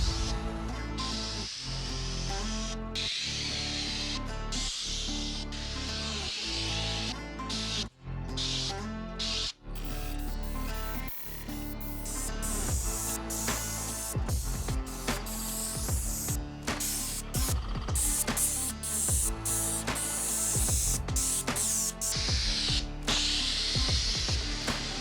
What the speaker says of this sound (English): is an airless sprayer. That means you don't have to dilute the paint or anything.